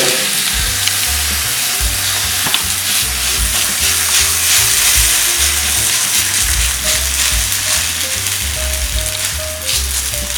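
Pepper adai dosa batter sizzles steadily on a hot pan, a dense, even frying hiss that lasts throughout with faint scraping and clinks, no voices.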